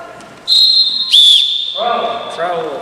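A basketball referee's whistle blown during an officiating drill to call a travel gives one long, loud, piercing tone, sharpening into a brief stronger burst, then cut off as a voice talks over the end.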